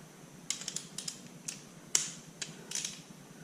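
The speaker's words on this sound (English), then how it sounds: "I'm going to grab my torque wrench and we'll torque it down to 15" Torque wrench tightening the oil drain plug on a BMW R1200GS to 15, giving a run of sharp mechanical clicks and ratchet ticks, close and fairly quiet, with no talking.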